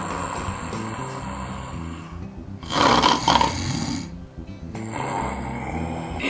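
A voice imitating loud, rasping snores like an old wolf, a few rough throaty breaths with a harsh roaring swell in the middle, close and alone.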